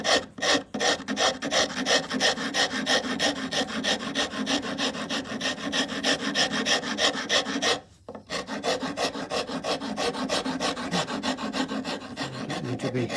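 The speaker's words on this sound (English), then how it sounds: "Then I can, from there on, get to the rasp again." A wood rasp shapes a wooden guitar neck in a steady, continuous run of coarse scraping strokes, close and fairly loud, with one brief pause partway through and no voices.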